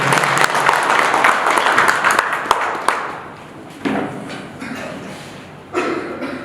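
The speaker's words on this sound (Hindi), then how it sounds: "कृपया इनका भी जोरदार ताली के साथ स्वागत करें।" Loud audience applause welcoming a newly elected BJP district president at an Udaipur cable operators' swearing-in ceremony, dense clapping that fades after a few seconds into scattered thumps and claps.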